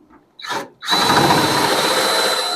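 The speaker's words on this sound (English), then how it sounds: "So I'm going to drill those holes" A power drill whirs briefly, stops, then runs steadily at high speed, drilling holes in a Dodge Challenger's trunk, close and loud with a constant whining hum.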